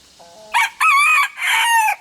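Rooster crowing up close on a homestead among chickens and a few soft clucks, with a loud crow in two bursts after quieter clucking.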